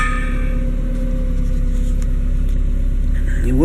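A Toyota car engine runs at a steady low idle, a constant close hum with a slight rev rising at the very end.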